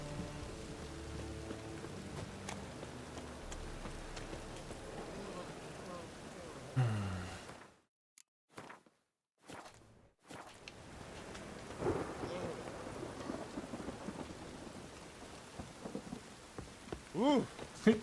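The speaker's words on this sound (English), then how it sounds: "Man, look at that rain." Sideways rain and thunder in The Witcher 3 fill the scene with a steady wash of rainfall and low rumbles, cutting out briefly midway before the storm resumes with occasional heavier bursts.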